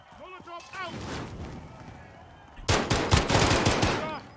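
Rapid automatic gunfire in Call of Duty Warzone, bursts of loud close shots mixed with game effects and voices talking over the action.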